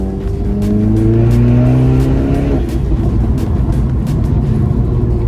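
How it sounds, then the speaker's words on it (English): A 400 BHP VW Polo GTI running a Golf R turbo accelerates hard, the engine note rising steadily through gears with loud, close booming and fluttering exhaust, heard alone. "Absolutely aggressive boost, this car."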